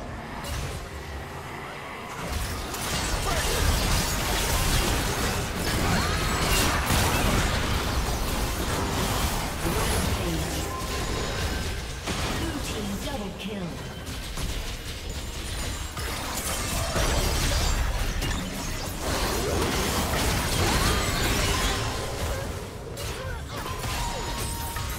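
A turret being destroyed in League of Legends, heard as a dense stretch of crashing, shattering bursts and mechanical clatter lasting the whole span, loud and continuous with swelling peaks.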